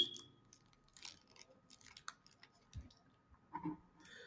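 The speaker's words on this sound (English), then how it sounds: "like I'm just clicking on a save" Computer mouse clicks, quiet and sparse, scattered in short irregular taps over a faint hum with near silence between them.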